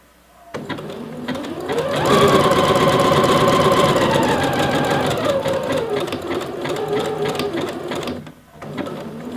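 A sewing machine stitches elastic onto a waistband, whirring up to a fast, steady buzzing run close by for several seconds, slowing briefly, then pausing before restarting.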